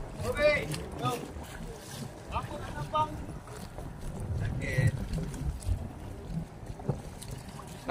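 A pompong boat at the Penyengat Island crossing rumbles steadily with wind and water noise, while people talk over it throughout.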